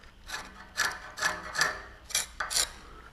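A pencil or marker scrapes along a mason's rule while a reference line is traced, giving a series of short, close, raspy strokes in uneven rhythm with no talking.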